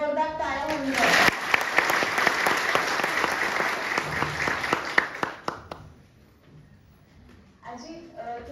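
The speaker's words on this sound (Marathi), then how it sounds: "आजींसाठी एकदा जोरदार टाळ्या होऊन जाऊ" Hearty audience clapping for an elderly grandmother who runs a cooking channel. A dense burst of claps lasts about four seconds, then fades as voices take over at the end.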